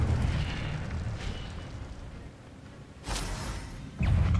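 An Incendio fire spell is cast in Hogwarts Legacy, a rushing, roaring burst of flame with low rumbling blasts, fading into a hissing lull before two sharp new surges near the end.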